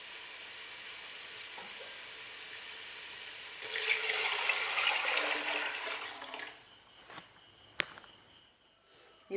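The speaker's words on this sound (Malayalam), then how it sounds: "ഇപ്പോൾ ഞാൻ അരിക്കനുസരിച്ച് വെള്ളം ഒഴിച്ച് കൊടുത്തിട്ടുണ്ട്." Water pours into a pan of rice for ghee rice, a close rushing splash lasting a few seconds over a faint sizzle, followed by a quieter stretch with a sharp clink of utensils.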